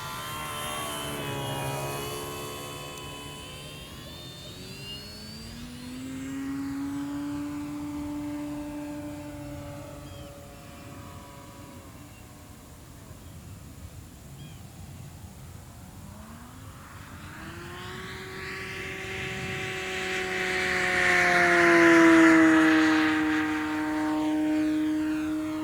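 An Avios Grand Tundra 2 1700mm RC plane makes full-speed passes on a 6S battery, its electric motor whine rising and falling as it sweeps past, with a louder, closer pass near the end.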